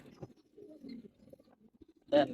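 Domestic pigeons kept by a young owner coo softly in low, murmuring bursts, ending in a brief louder flutter of sound close by.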